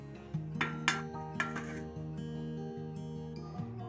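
A lid is set onto a pot of muri ghonto, a Bengali rice and fish-head dish, after the gas is turned off. A few close metallic clinks and clatters ring out over a steady hum.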